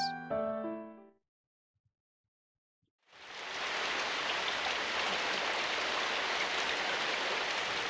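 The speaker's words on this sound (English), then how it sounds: "One rainy day." Rain sound effect in a visual novel game, a steady dense hiss of rainfall that starts after a short chime-like musical phrase and a moment of silence, then continues evenly and fairly loud.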